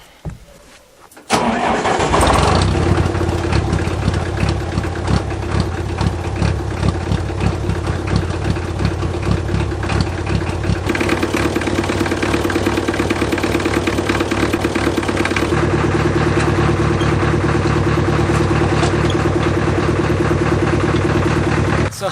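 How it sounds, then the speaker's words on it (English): A farm tractor cranks and fires up after a brief quiet moment, then settles into a loud, steady idle with a throbbing low rumble that shifts slightly partway through, heard close up for about twenty seconds. "let's get the tractor fired up and go cut some hay"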